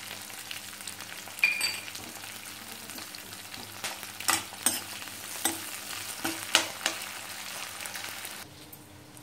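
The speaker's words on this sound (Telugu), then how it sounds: "దీంట్లోకి మనం తరిగి పెట్టుకున్న ఉల్లిపాయలు వేసేసుకుంటాం. ఇందులో ఒక అల్లం వెల్లుల్లి పేస్ట్ కూడా వేసేస్తున్నాం." Chopped onions and ginger-garlic paste fry in a hot pan for a stuffed brinjal masala curry, giving a steady close sizzle broken by several sharp crackles and stirring scrapes, with no one talking.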